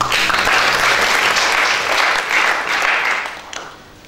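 A church congregation at a Sunday service breaks into loud, dense applause that holds for about three seconds, then tapers off quickly into quiet.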